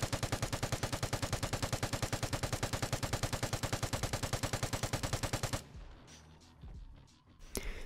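An RPK machine gun fires a long rapid automatic burst in the video game Vigor, dense and steady for about five seconds, then stops, leaving a quieter tail with a few faint clicks and one more sharp report.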